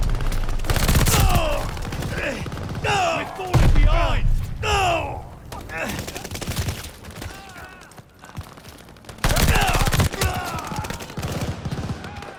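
Rapid automatic weapon fire from a gun in the video game Call of Duty Vanguard, loud bursts repeating through the clip, mixed with in-game effects and voice chatter.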